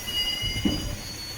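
A Chennai suburban EMU train running at night on the Beach to Tambaram line gives a steady loud rumble of wheels on track, with a sustained high metallic wheel squeal throughout and no talking.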